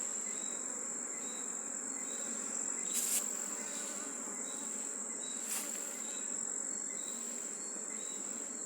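Bees buzz at an open hive during an inspection with an expert beekeeper in Jamaica, a continuous, fairly soft insect drone with a couple of brief sharp bursts, no talk.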